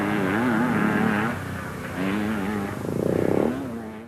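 Vintage scrambles motorcycles, including a 500, race past with rising and falling engine wails, one machine fading as another buzzes in closer, heard from a grandstand.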